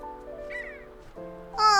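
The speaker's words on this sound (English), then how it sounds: "That bird is so pretty." A pretty bird in the video game Infinity Nikki gives brief chirping calls over soft, sustained game music, ending in a brighter, louder trill.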